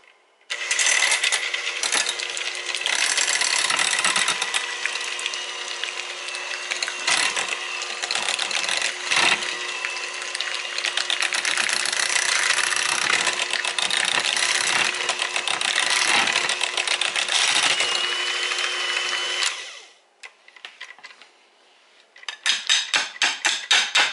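An electric mixer runs on low speed through cream cheese, a close, continuous whirring motor with repeated clacking knocks of the beaters against the bowl, pausing briefly before starting again.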